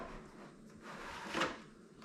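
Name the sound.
drawer of a Creality CR-10 Smart 3D printer opening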